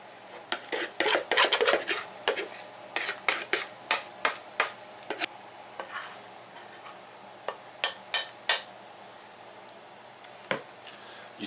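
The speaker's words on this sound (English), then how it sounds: "Now I'm going to take my batter, and I'm just going to pour it over my butter." Melted butter in a baking dish takes a pour of cobbler batter, heard as a series of short clinks and scraping rasps of utensils against dishware, spaced irregularly and fairly close, with no talking.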